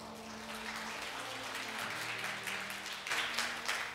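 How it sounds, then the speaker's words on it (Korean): Seminar audience at a film and TV VFX production talk applauding: a sustained, fairly distant patter of clapping over a low steady hum, swelling slightly near the end. "박수 부탁드립니다."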